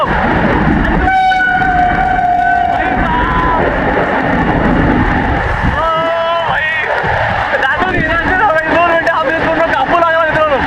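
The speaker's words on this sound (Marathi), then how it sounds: "आता आपण ट्रॅकवर थांबलो आणि ट्रेन आलेली आहे" A train rumbles past close by near Khopoli, wheels clattering on the rails, with horn-like tonal blasts and people talking over the loud rolling noise.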